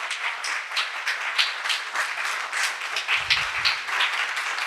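A church congregation clapping during a Mother's Day service, a steady, full round of many hands at moderate distance throughout, with a brief low thump partway through and no speech.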